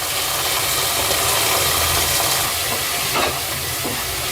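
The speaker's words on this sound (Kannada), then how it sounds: "ಇದು 1 ನಿಮಿಷ ಫ್ರೈ ಮಾಡ್ಕೊಳ್ಳಿ." Tomato frying in a pan for an avarekalu (field bean) gravy makes a continuous loud sizzle with a bubbling hiss and a brief stirring scrape near the end, with no one talking.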